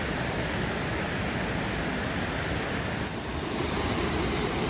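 Rio Savegre waterfall in Costa Rica, a steady, loud broadband roar of falling water with no letup, heard close and alone without voices.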